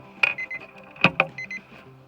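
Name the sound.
electronic device beeping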